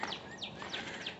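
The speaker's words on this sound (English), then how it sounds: "I love hearing the birds chirp." Birds chirp outdoors on a warm, sunny day, a few faint, quick high tweets repeating every few tenths of a second over soft background noise.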